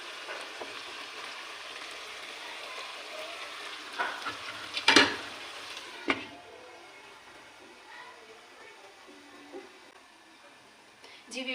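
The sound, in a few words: chicken frying and being stirred in a karahi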